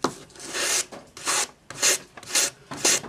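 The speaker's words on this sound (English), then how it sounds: "400 grade paper on your sanding stick" A metal ring cut from a coin is rasped with 400-grade paper on a sanding stick, making five steady back-and-forth scratching strokes, close and moderately loud, with short pauses between them.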